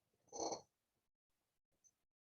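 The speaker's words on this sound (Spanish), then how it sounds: "Esta mi gatita." A pet cat at home gives a short, close purring rumble, followed by a second faint, brief sound after a pause, with otherwise quiet surroundings.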